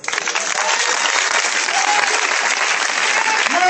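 Audience applause from a large crowd cheering a performer, dense sustained clapping that stays loud and even throughout, with no talk over it.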